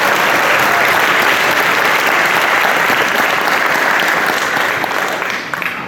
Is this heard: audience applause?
yes